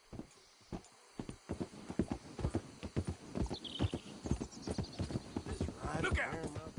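Horse hooves clip-clop at a steady gait in Red Dead Redemption 2, loud and close, with a whinny near the end while characters speak over the hoofbeats.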